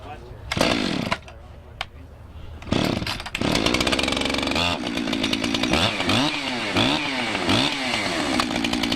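A chainsaw cuts wood at a farm equipment dealer, the engine revving in loud bursts that drop to idle between cuts, while people talk over and around it.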